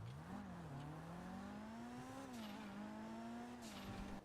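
Sports car engine in a GTA driving game revving steadily, its pitch climbing and dropping through several quick gear changes, loud and close with a faint tire squeal and no talk.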